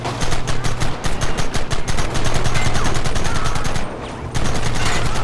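Gunfire in a Red Dead Redemption fight: rapid, rhythmic shots pop at close range, then merge into dense, sustained volleys with a short dip near the end.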